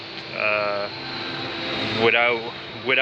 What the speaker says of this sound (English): In cool down mode, the heaters are not working, but the fan and the vacuum system are working